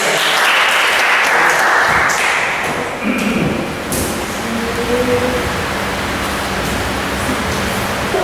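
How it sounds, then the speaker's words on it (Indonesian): A class of students gives sustained, close applause for a classmate, a steady wash of many hands clapping that softens a little after the first few seconds. "Oke, tepuk tangan untuk Raya."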